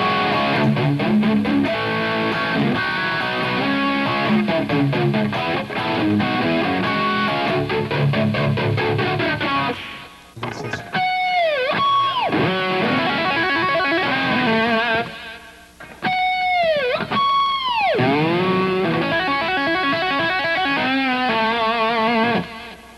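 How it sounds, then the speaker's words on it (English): Electric guitar rock riffs, distorted and swept by a flanger effect that sends the tone swooping up and down, broken by brief gaps near ten and fifteen seconds; loud and continuous, no voices. "He periodically steps on his toys to give it this sweeping sound in just a piece of the song."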